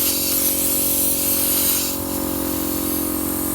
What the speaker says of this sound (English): it's not an expensive compressor, but hey, it's done me well